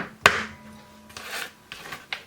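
A knife chops a bar of Nomo chocolate into halves for brownies, with one sharp close cut followed by a few softer scraping strokes on the board.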